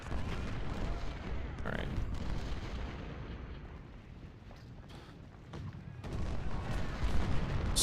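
Artillery fire and musket gunfire from an American Civil War battle in the strategy game Ultimate General: Civil War, rolling as dense, continuous booms and crackle at mid distance, with a brief spoken word over it.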